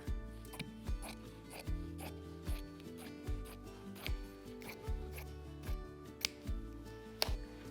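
Scissors snip through upholstery fabric for reupholstering a dining chair seat pad, a steady run of close, soft crunching cuts repeating about every half second, with no talking.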